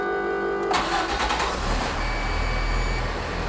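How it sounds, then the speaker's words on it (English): Work truck engine cranking over and catching, then settling into a steady low idle rumble, with a brief warning chime before the start. "first thing we're gonna do is start the truck up."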